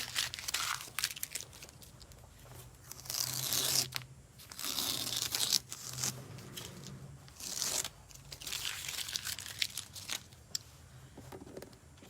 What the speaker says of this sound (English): Now I'm going to take my tape off.